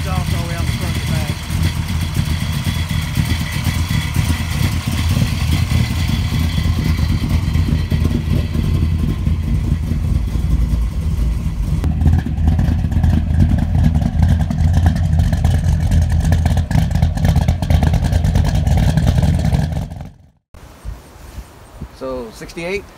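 A 1968 Camaro convertible with a 700 hp big-block Chevy V8, Turbo 400 transmission and 3-inch exhaust rumbles loudly and revs, its dense low roar holding steady for most of the clip, then cutting off abruptly near the end, with voices over it.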